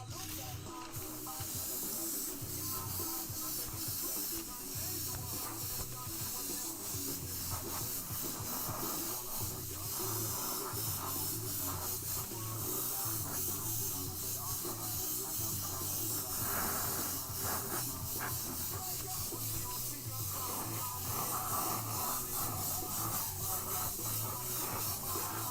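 Airbrush hissing steadily while spraying paint onto a 3D-printed Spawn bust, a continuous close airy spray that runs unbroken from start to finish.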